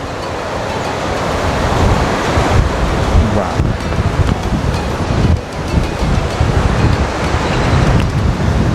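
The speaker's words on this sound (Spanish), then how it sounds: "Este río es el famoso río Caldera." The Caldera river in the Chiriquí highlands of Panama flows in a loud, constant rush, mixed with heavy wind buffeting the microphone.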